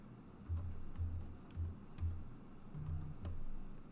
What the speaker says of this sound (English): then I can just type in my name